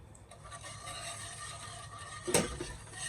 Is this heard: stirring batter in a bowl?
yes